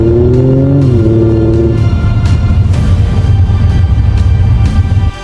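A car engine revs hard and loud throughout, with a rising harmonic tone at the start and then a steady roar. The engine sound is synthetic and piped into the cabin, as in BMW M models and the four-cylinder Ford Mustang EcoBoost.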